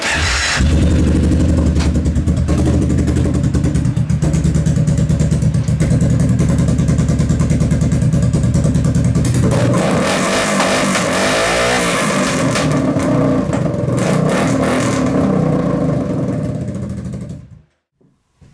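A Kawasaki KFX700 quad's engine runs loud and close with a rough, clattery idle, shifting in tone partway through, then cuts off abruptly near the end, leaving silence.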